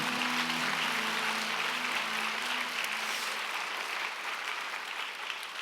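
A room of church young adults gives a sustained round of applause, thick and even from start to finish, with a faint voice briefly audible at the beginning.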